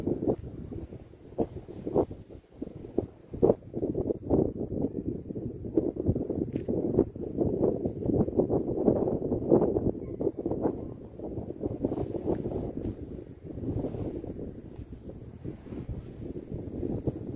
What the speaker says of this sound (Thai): ลมแรงมากๆครับ